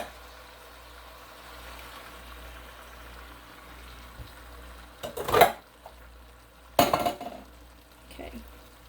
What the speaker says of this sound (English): And then I'm going to add 2 cans of tomato sauce.